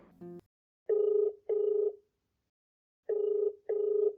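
A telephone being dialed and then ringing: a brief dial tone, then paired ring bursts with a pause between the pairs, clear and alone with no talking.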